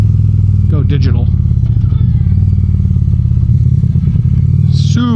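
A 2025 Indian PowerPlus Limited motorcycle engine rumbles loudly and steadily while riding, with brief rising and falling pitch as gears shift, and a voice talks over it.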